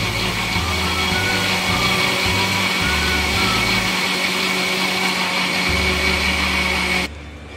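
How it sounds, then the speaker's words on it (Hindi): A kitchen mixer grinder whirs loudly and steadily while grinding ingredients for a summer refreshment drink, its motor pitch shifting in pulses before cutting off abruptly near the end. "अच्छी तरह ग्राइंड करना है"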